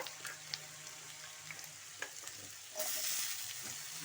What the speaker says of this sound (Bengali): এই আলুগুলো সুন্দর ভাজা হয়ে গেছে